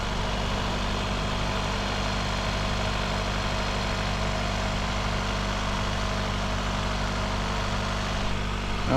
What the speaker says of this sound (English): Fan turning on again.